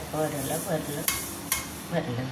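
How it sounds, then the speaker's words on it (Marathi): Sesame seeds roast in a pan while a spoon stirs them, a steady dry rustling and scraping with two sharp metallic clicks against the pan, close and clear. "हे अशा प्रकारे आपण तीळ भाजली"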